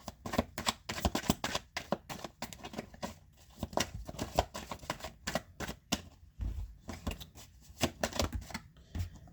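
Tarot cards shuffled for a reading, a close, brisk riffling of stiff cards in rapid repeated bursts with brief pauses, with no talk.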